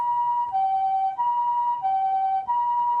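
An ambulance siren wails steadily nearby, alternating between two tones roughly every two-thirds of a second, loud and unbroken with no voices over it.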